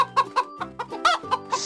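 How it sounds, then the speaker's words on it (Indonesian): Chickens cluck in a farm garden, a rapid series of short, loud, close clucks in an uneven rhythm with brief gaps between them. "Ada sepuluh ayam."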